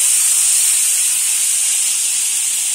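Chopped beetroot hits a hot pan with Kashmiri methi for a vegetable chop filling, giving off a loud, continuous, even sizzle close by from start to end.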